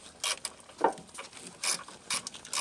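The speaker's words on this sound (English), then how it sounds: "I'm just kind of holding the ratchet with just my fingers and while tightening that" A ratchet clicks in short bursts while tightening bolts on a truck starter motor, passenger side of an AWD/4x4 GM truck such as a Yukon, Tahoe or Silverado; close, faint, irregular runs of rapid pawl ticks with no talk.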